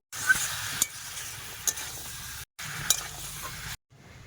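Food is stirred and fried in a pan in a village kitchen, with a soft continuous sizzle and a few sharp scraping knocks of the spoon against the pan, close by.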